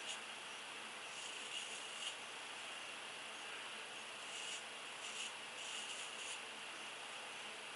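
A safety razor mows through stretched facial hair in a steady, close rasping scrape that stays near-constant, with a few slightly louder strokes.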